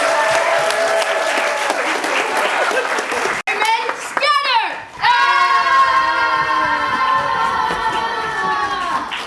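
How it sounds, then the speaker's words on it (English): An audience applauds after a children's stage play about Robin Hood, with dense clapping and children's voices mixed in, then a sustained tonal sound takes over the second half. "Let's give it a round of applause for all of our"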